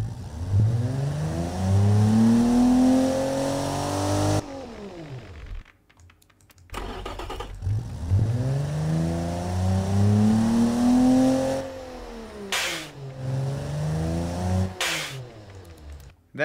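A simulated Nissan 300ZX-style car engine in the Automation video game revs up and down in repeated surges, loud and close, with brief pauses and clicks between the revs.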